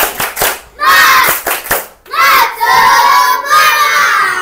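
A group of children does a cheer clap in a quick rhythmic pattern, then shouts together loudly in unison, the voices ringing on for a couple of seconds.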